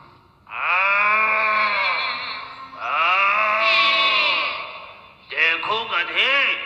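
A human voice imitates a cow mooing while telling a children's story at a school: two long, drawn-out, wavering calls, then a shorter burst of quicker warbling calls, all close and loud.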